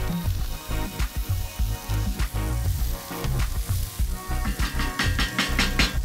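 Onions frying in a pan over a Big Green Egg outdoor grill, a steady loud sizzle with crackling bursts and popping throughout, no talking.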